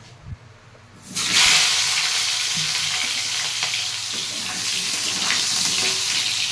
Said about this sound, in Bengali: এবার ভেজে নেব আলুটা।